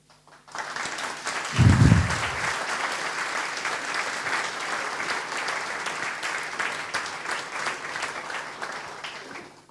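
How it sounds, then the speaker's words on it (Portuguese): Steady, sustained audience applause fills a panel debate hall on decentralization and regionalization, with a short low thump near the start and clapping that carries on evenly to the end. "eu penso que o moderador não pode bater palmas"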